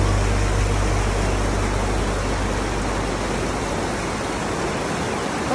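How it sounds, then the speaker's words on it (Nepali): A strong, fast-flowing mountain river in Sindhupalchok being waded across rushes loudly and steadily as a dense, continuous roar close by, with no voices. "यो खोलाको पानीको बहाव चाहिँ धेरै नै छ"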